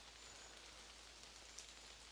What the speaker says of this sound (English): you may also be able to hear the pitter-pattering of raindrops on the leaves in the surrounding canopy of this little section of woodland